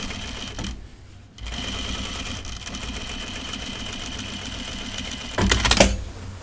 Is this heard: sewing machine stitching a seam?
yes